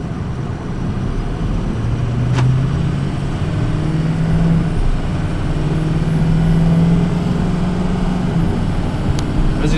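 A 2004 Ford F-250 crew cab 4x4 diesel truck drives along, giving a steady low engine drone with some shifting tone changes and road noise, no talking.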